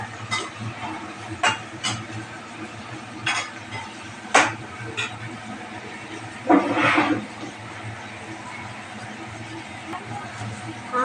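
Onions and curry leaves go into a pan after mustard seeds pop for brinjal tamarind curry, with soft background sizzling and scattered metallic stirring knocks and scrapes, one longer rattling burst midway.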